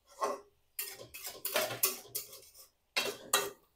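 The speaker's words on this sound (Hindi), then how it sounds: "खूब बढ़िया से इसको मिक्स कर लेंगे पूरे मीट में जो मसाले जितने हैं" Spiced chicken roasts in a pan as a spoon stirs it, giving a run of loud, close scraping and clinking strokes in uneven bursts with short pauses between them.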